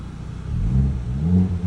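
A 2025 Hyundai Elantra N, a 275-horsepower sports car with about 750 km driven, revs its engine in a short, close, throaty surge that rises and falls under a deep exhaust rumble.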